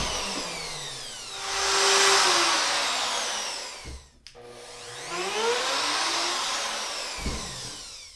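Wood router rounding over the edges of a wood block for a sign, a loud close whine that swells as it cuts, a brief dip in the middle, then a second rising pass.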